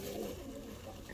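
A mother pigeon gives a soft, low cooing in a brief, faint burst, close by and alone.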